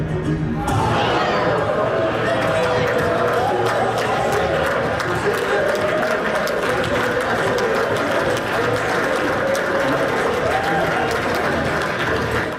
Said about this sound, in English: listen to what a room with a lukewarm reaction sounds like here.